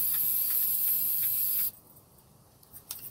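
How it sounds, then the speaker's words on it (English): A close, loud hiss of white spray paint from an aerosol can onto a cup for under two seconds, then it cuts off, leaving faint background noise. "So I'm just spraying it white because I want my color to pop"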